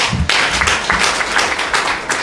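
A crowd at a Ghana Football Association launch event applauds a juvenile club member, a loud, dense burst of many hands clapping together, continuous and close throughout.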